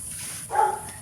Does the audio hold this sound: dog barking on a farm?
yes